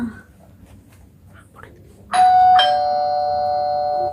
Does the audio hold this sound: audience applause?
no